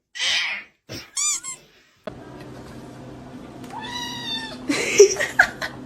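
A cat meows several times, high and squeaky, in short separate calls, then more drawn-out meows over a low steady hum.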